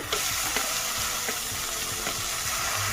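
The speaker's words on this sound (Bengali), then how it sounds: "দিয়ে দিচ্ছি টমেটো কোচানো" Chopped tomato going into a pan where chopped onion is already frying, with a steady, close sizzle and crackle that holds through the clip alongside faint stirring sounds.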